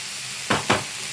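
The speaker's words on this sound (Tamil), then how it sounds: "கொஞ்ச நேரம் சிம்மில் வச்சிங்கன்னா வெங்காயம் நல்லா வதங்கி நல்ல கோல்டன் ப்ரௌன் கலர் வரவெல்லாம் வதங்கணும்" Onions sautéing over low heat in a pan for a prawn thokku, a faint steady hiss interrupted by two quick stirring scrapes close together, no speech.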